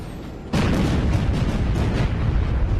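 Naval battle in Battlestations: Pacific: after a quiet lead-in, heavy ship gunfire and shell hits erupt into a loud, rumbling barrage of booms and blasts that continues without pause.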